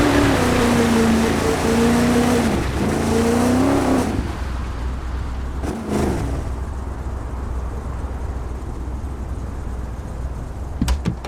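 An off-road rally car in the Dakar 18 video game revs hard pulling out of a mud pond, loud engine roar settling into a steady rumble with splashing, no talking.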